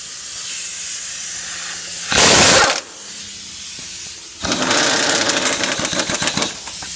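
An impact wrench with a socket fitted fires in two bursts: a short loud pneumatic hiss-whir, then a longer rattling, hammering run, over steady background hum.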